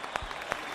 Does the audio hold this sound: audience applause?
yes